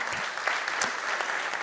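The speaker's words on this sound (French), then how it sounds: "on peut l'applaudir aussi" A brief burst of audience clapping at a conference on AI and cybersecurity, dense and steady, lasting under two seconds.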